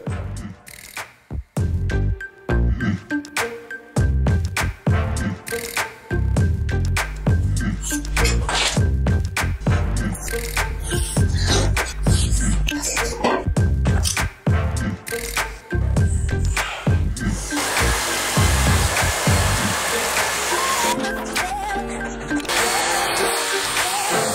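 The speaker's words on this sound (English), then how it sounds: "So, now I have cut out a hole here with the jigsaw." A jigsaw cuts a hole in a board for a DIY router guide sled, a loud, continuous rough buzzing with choppy surges and brief dips that runs for about twenty seconds before settling into a steadier whine.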